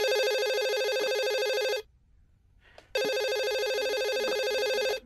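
A telephone rings in a horror video game, two long bursts of a loud electronic bell-like trill separated by a pause of near silence, close and alone.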